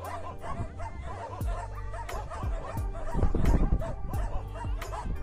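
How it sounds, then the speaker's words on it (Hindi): Neighbourhood dogs bark repeatedly at a strange animal, sharp overlapping barks and yips at close range, growing louder and busier toward the end. "जिसके ऊपर मोहल्ले के कुत्ते भौंक रहे हैं,"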